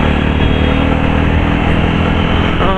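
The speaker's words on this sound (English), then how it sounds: "Oh, this is some serious acceleration going on." A Jawa Classic 300 BS6 motorcycle accelerates hard, its engine roaring loud and close in a dense, steady drone, with wind rush and no speech.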